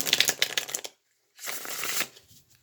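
Tarot cards being shuffled in two quick riffling bursts separated by a short silence, close and crisp, with no talking.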